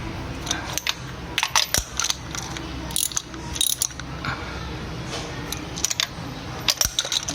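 Ratchet wrench tightening a bolt on a Toyota 2NZ VVT-i engine in a garage, with quick bursts of clicking that repeat several times close up over a steady background hum.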